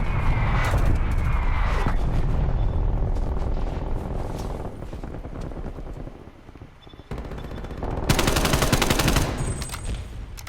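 Sustained automatic gunfire from the Call of Duty: Black Ops Cold War video game rattles in long, loud bursts, easing off briefly midway before another intense stretch of shooting near the end.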